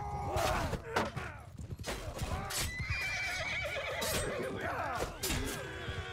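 Horses whinny repeatedly in a Bannerlord multiplayer battle, loud neighs rising over clip-clopping hooves and battle clatter, with no talk.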